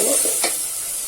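Goat trotter curry sizzling in a pan as a spoon stirs it, two or three brief scrapes over a constant frying hiss, close by.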